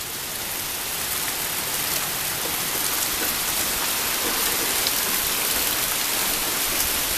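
Heavy rain pours steadily during a storm, a dense, loud, unbroken hiss of water that holds for the whole stretch with no voices.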